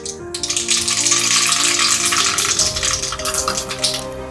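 A spoonful of mustard seeds hits very hot oil in a pan and bursts into a loud, close sizzle, an even hiss that holds for several seconds and thins a little near the end.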